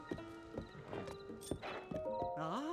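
Horse hooves clip-clop in Zelda: Tears of the Kingdom at a stable, a few quiet separate hoof steps in a sparse rhythm, followed by a brief whinny-like tonal sound near the end.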